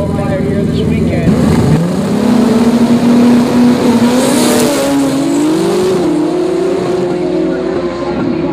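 A Team Honda turbocharged CBR1000RR drag bike roars loud and close, its engine note climbing steadily as it launches and pulls down the strip, with a commentator talking over the noise.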